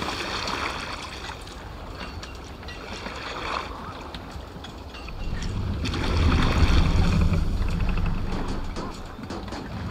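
Oars rowing a longship on the water in Assassin's Creed Valhalla, a steady wash of water and wind that swells louder midway, with faint voices now and then.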